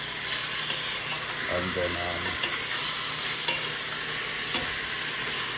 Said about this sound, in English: So I like to put my browning in the pot while it's there